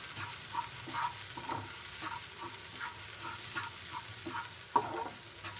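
Grated coconut with turmeric roasted in a pan for village-style egg masala, with a constant low sizzle and rhythmic scraping of a spoon about once a second, plus one louder knock near the end, close, no voices.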